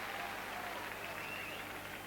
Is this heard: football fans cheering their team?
yes